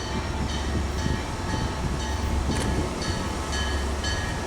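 Eastbound passenger train 252 rolling past at steady speed, a continuous loud rumble of wheels on rail with rhythmic clicks from the passing cars and no voices.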